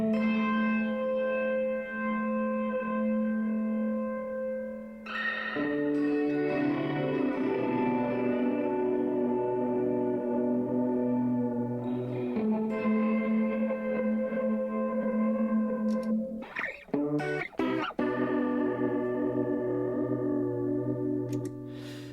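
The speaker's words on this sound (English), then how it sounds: "And then here's reverb before it." With reverb placed before the effects on a Chase Bliss Lost and Found pedal, held, bell-like tones drone and shift in pitch, warbling and echoing, with a few abrupt glitchy stutters near the end and no voices.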